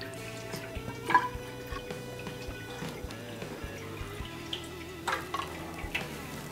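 Yeast starter liquid for an imperial stout is poured out of a vessel up close, giving a light trickle broken by small splashes and drips.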